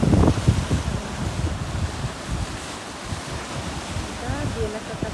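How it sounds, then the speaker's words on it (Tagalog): Rough sea waves break and wind gusts at Church Beach on Bermuda Island on an overcast day. The surf roars close, with heavy wind buffeting the microphone throughout. "Tapos ngayon dito sa dagat maalon, guys."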